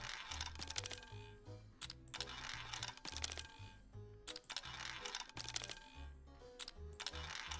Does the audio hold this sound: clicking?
yes